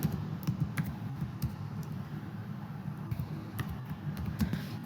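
Someone types a file name on a computer keyboard in Microsoft Excel, giving a run of light, irregular key taps heard close over a low background hum, with no talking.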